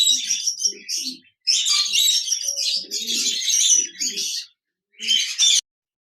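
A pair of large budgerigars in a cage chatter and chirp in busy, high bursts, close and clear, with short pauses between runs.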